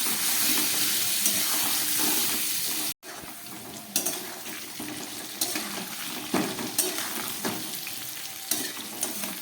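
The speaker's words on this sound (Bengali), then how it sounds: "আলু আর পেঁপেগুলোকে খুব ভালো করে ভেজে নিচ্ছি" Potato and papaya pieces sizzle in hot oil with salt and turmeric, a steady loud crackling hiss broken by sharp stirring scrapes and clicks and one brief drop-out.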